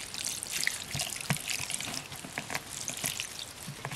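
Water is poured into a cooking pot holding corn cobs, giving a close, continuous splashing trickle with small drips and clinks throughout.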